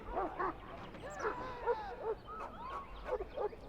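A Mabari war hound in Dragon Age: Origins gives a run of yips, whines and short barks. The sounds are close and fairly quiet, mixed in with other voice-like sounds in a castle setting.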